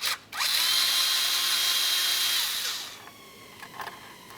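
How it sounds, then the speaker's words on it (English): Power tool driving out T25 Torx mounting bolts on the transmission filter of a 1994-2002 Dodge RAM 2500, a loud close whine lasting a couple of seconds after a short blip, then fading to faint clicks. "We'll do that by removing two T25 headed mounting bolts."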